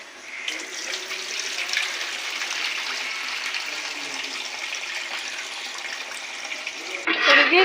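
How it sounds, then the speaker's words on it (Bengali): Soaked rice for chicken biryani is washed under steadily pouring water, a continuous close rush that swells into sharper splashing at the end. "চালটাকে ভিজিয়ে রাখা হয়েছিল এক থেকে দেড় ঘন্টা আগে এবার ধুয়ে নেওয়া হবে"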